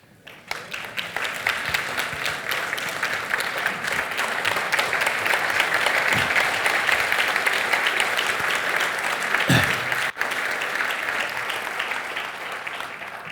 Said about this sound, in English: Give yourself a standing ovation.